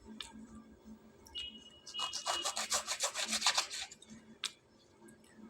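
A knife cutting lemons for pickle, a quick run of raspy slicing strokes in rapid rhythm in the middle, with a few softer scrapes and taps before and after, close and fairly quiet.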